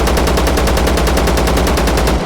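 A 5.45 automatic rifle with a drum magazine fires a loud, rapid, evenly spaced burst of about twenty rounds at roughly 600 rounds per minute in the video game ZERO Sievert.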